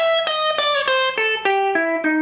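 Guitar runs down the blues scale in steady picked notes, about eight evenly spaced attacks descending in pitch, played clearly and alone with no talking.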